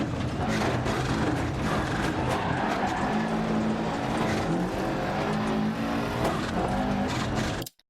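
A rally car in Dirt Rally 2.0, racing a flat-out stage in Australia: a loud, continuous engine roar with shifting pitch and tyres skidding on gravel, steady and close throughout until it cuts off abruptly at the end.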